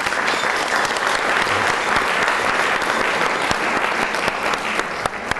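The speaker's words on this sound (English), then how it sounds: "So please join me in extending them a round of applause." Steady, dense applause from a conference audience honoring event sponsors, sustained and loud throughout with no talking over it.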